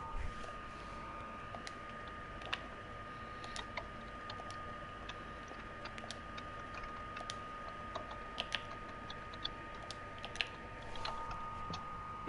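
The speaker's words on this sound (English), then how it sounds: "I am going to finish typing this code before we jump on to the next step" Code is typed on a computer keyboard, a run of quiet, irregular clicks near the mic over a faint steady hum, with scattered louder keystrokes and no speech.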